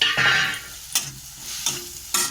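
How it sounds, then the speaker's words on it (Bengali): Turmeric, chilli, cumin and chaat masala sauté in a hot pan with a steady sizzle, broken by a few sharp stirring scrapes at intervals. "এর সঙ্গে আমি মশলা দিচ্ছি, হলুদ, লঙ্কা, জিরে আর চাট মশলা একসাথে দিয়ে আমি একটা কষে নিচ্ছি"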